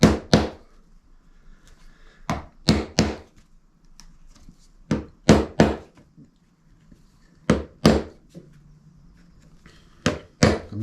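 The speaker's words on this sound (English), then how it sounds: "I can just work my way around with this little transfer punch" A small transfer punch is tapped sharply to mark drill holes through a template taped in position, giving crisp, close knocks in pairs and short bursts separated by quiet pauses.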